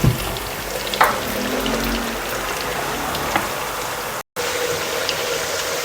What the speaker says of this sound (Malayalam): പച്ചമുളക്, ചുവന്നുള്ളി, കറിവേപ്പില ഇതെല്ലാം വഴണ്ട് വന്നിട്ടുണ്ട്.